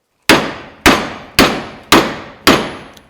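A hammer strikes a drift held in a vise, five loud ringing metallic blows at an even pace, each decaying before the next, close and alone.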